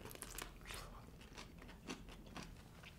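Someone bites into a crunchy pickle and chews, giving faint crisp crunches and wet mastication sounds in close, quiet bursts over a low background hiss.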